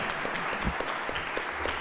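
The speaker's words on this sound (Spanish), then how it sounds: "le damos un aplauso" Audience applause at a youth gathering during a parish novena, a steady wash of clapping from a crowd filling the whole moment with a few louder claps standing out.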